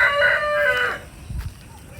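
A big farm rooster crows loudly and close, one long strained call lasting about a second, followed by a few low thumps and quiet background.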